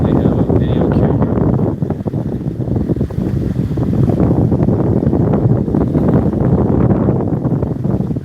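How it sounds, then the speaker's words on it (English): Strong wind at the beach buffets the microphone in continuous gusty roaring, with water and a jet ski engine faintly beneath. "Yeah, it's really windy."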